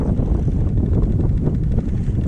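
Wind gusting across a lake on a fishing outing, a loud, low buffeting rumble battering the microphone throughout, dense and unbroken with no voices.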